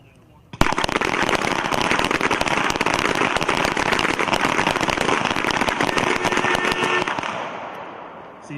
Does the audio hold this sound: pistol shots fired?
yes